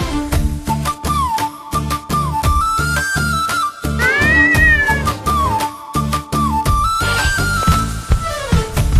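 A kitten's meows ring out repeatedly over a bouncy Tamil children's nursery rhyme about a plump, hopping kitten, with instrumental music and a sung melody carrying throughout.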